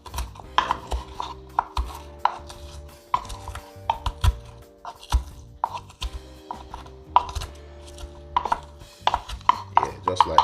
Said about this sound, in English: I have some ginger here. I'm gonna crush up to put into the curry oxtail.